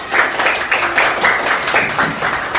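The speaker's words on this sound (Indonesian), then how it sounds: "Oke, tepuk tangan dulu" Classroom of students applauding a group, bursts of hand clapping rising and falling in several rhythmic waves, fairly close and loud.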